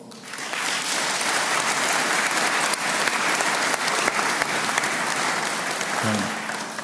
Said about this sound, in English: It'd be nice if you could give them a round of applause.